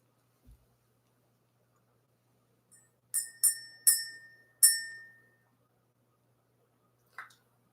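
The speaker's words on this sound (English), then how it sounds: "Let's ring the bell. Let's clear out this energy" A small bell is rung four times in quick succession to clear energy, bright ringing strikes that decay briefly, followed by a fainter fifth ring after a pause in an otherwise quiet room.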